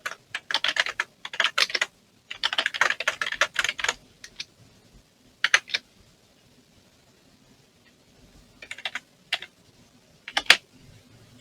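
Bursts of keyboard typing on a computer while entering text in Figma, rapid clustered keystrokes separated by pauses and a few isolated taps, close and clear with no talking.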